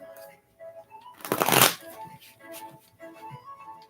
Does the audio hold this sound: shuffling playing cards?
yes